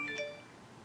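Mobile phone notification, a brief chime of a few quick bright tones that fades within a second, quiet and close in a room, with no speech over it.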